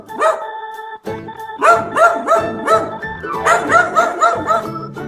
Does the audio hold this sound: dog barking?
yes